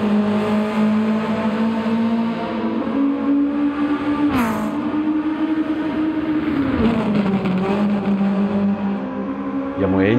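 Tuned Mitsubishi Lancer Evolution IX engine in Gran Turismo 7, driven at night on an expressway, droning loud and steady with pitch rising and dipping through gear changes and a brief crackle midway.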